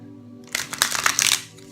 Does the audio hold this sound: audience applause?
no